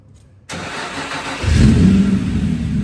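A Nissan 350Z engine cranks and catches, then settles into a loud, close running rumble that rises in strength after about a second.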